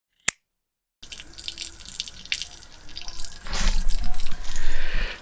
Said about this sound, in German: ihr seht, wir lassen gerade Wasser raus